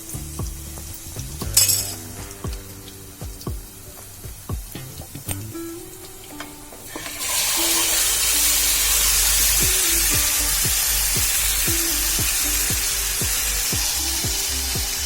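Oil crackles with a few clinks and stirs, then erupts into a loud, steady sizzle of garlic frying until golden for a catfish curry, filling the rest of the clip.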